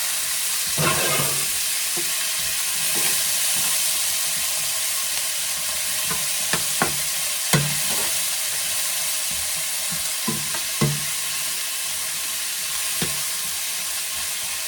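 Vegetables fry in bacon grease in a pot for potato soup, a soft constant sizzle underneath scattered spoon scrapes and clinks that come every second or two, moderately close and quiet.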